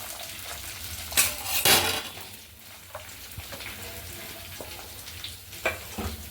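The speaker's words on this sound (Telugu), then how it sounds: "ఈ స్పూను జీలకర్ర, ఈ మిర్చిను ఇవి పచ్చి కొబ్బరి ముక్కలు వేయించుకోవాలండి." Cumin seeds, green chillies and fresh coconut pieces roast in oil, a low sizzle broken by loud spoon scrapes and metallic clinks against the pan as they are stirred.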